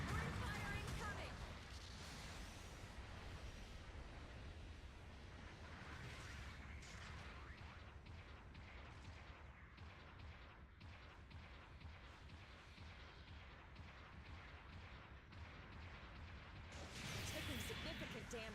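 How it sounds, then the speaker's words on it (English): Supporting artillery fire in the mecha video game Gundam Battle Operation 2 rumbles as continuous dense booms and blasts, loud and sustained throughout, with a heavier explosion near the end. "Supporting fire incoming"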